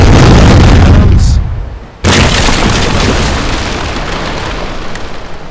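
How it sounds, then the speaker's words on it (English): A heavy ship's cannon boom with a rumbling tail in the naval battle video game East India Company, then a second sudden blast that decays slowly into rolling low thunder; loud and close. "Cannons."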